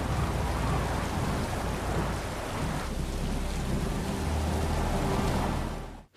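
Heavy rain pours steadily with a low rumble underneath, a dense, continuous storm wash that cuts off abruptly at the end.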